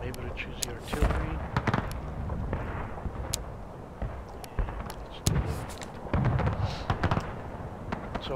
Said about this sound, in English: I'm going to show you what it's like to run a cannon battery